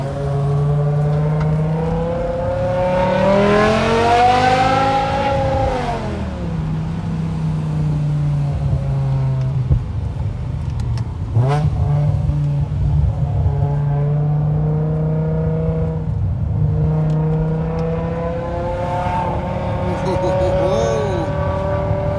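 A BMW E60 M5 with its exhaust resonators removed revs hard at low road speed, a loud, rising and falling high-pitched engine wail with sharp throttle blips, sustained throughout and close up.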